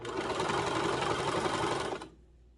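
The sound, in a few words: sewing machine stitching a rolled shirt hem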